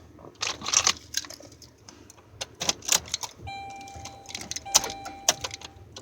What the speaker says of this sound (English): Keep on testing the key now. Comes right out, no problem.